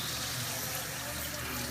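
Steady water runs from a tap over hands being washed, a continuous soft hiss with no pauses, faint and alone.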